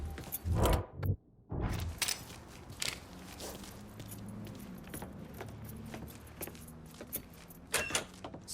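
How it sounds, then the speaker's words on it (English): Keys jangle in the video game Mafia III as a set is grabbed, with loud rattling bursts at the start, then quieter metallic clinks over a low engine-like rumble and ambient game sound. "Hey, man, grab those keys."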